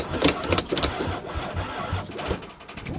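A van engine cranking over and over without catching, a steady rough churning with uneven surges close by, no voices.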